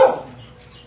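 Puppies at an animal shelter, with one short, loud bark at the start that fades into quiet background noise.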